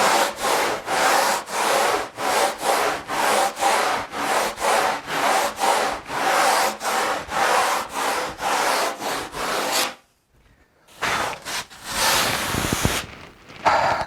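A surfboard foam blank has its rails shaped by hand, giving a steady run of close rhythmic rasping strokes about twice a second, then a brief pause and a few slower passes.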